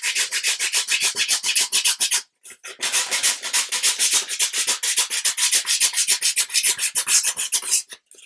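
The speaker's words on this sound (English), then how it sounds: "get a little bit of sandpaper and just sort that out" Sandpaper rubs over a 3D-printed modelling part in quick, rhythmic back-and-forth strokes, close and crisp, with one short pause before the steady scraping resumes.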